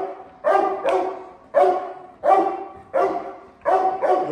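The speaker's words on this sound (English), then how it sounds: "A great hold and bark." A seven-month-old Chinese Red Dog barks loudly and repeatedly during protection training, in forceful single and double barks, close by with short pauses between them.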